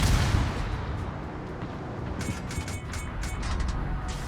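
Naval ship guns fire in a game battle: a heavy low boom opens, then rumbling continues beneath a run of sharper cracking reports in the second half, loud and with no voices.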